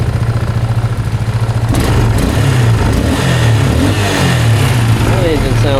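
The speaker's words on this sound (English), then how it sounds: "Engine sounds good." A 26-year-old Arctic Cat 300 4x4 ATV engine runs steadily and then revs up, loud and close throughout the clip.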